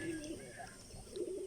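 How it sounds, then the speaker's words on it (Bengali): Pigeons cooing as they are let out of their coop, soft repeated low coos close by, with some speech-like murmur mixed into the short stretch. "আমি কবুতরগুলোকে সব ছেড়ে দিই এবং তোমাদের দেখাই"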